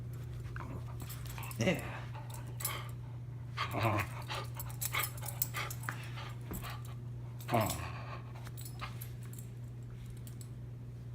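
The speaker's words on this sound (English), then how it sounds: "And that's my dog." A dog nearby panting with a few short whimpers and sniffs over a steady low hum, with a person speaking briefly.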